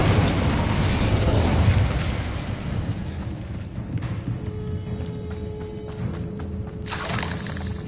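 Incendio fire spell cast in the Hogwarts Legacy game: a loud roaring blast of flame with a booming low rumble that settles into crackling, hissing fire and a sustained tone, close and dominant.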